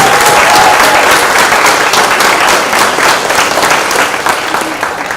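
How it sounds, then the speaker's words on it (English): A large audience claps loudly and continuously at an awards ceremony, a dense close roar of applause that eases slightly toward the end. "So, final round of applause for our Spring 2023"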